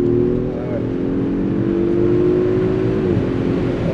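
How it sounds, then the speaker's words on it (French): An Audi SQ5 V6 engine revs and pulls, a steady rising drone that drops in pitch near the end, heard close from inside the car with people talking over it. "le son moteur, tu vois, est vraiment bluffant"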